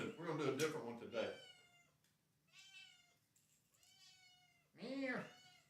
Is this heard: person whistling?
no